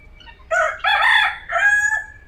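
A red junglefowl rooster crows loudly and close by from a cage in a safari park, one full cock-a-doodle-doo in three rising and falling phrases, alone against a quiet background.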